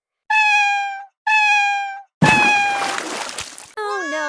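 Two drawn-out, high cartoon kitten meows sound in a row, followed by a third meow over a burst of splashing water, then a bright warbling tone.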